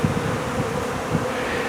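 A swarm of bees gathering in spring, a dense, continuous buzzing drone close by, steady in level with slight swells, no voices.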